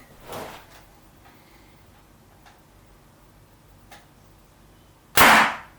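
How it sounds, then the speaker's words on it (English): A Dart Zone AEON PRO toy blaster firing a top-loaded dart: quiet handling clicks and a soft early rustle, then one loud, sharp pop with a brief burst of air near the end. "there's another way you can fire this blaster too, and that's to simply top load a dart straight into the barrel"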